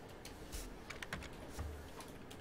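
Quiet, scattered keystrokes on a computer keyboard while code is typed, with irregular bursts of clicks over a low room hum.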